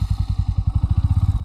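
A motorcycle on a night ride, its engine thumping in a fast, steady pulse, close and prominent over a brief stretch.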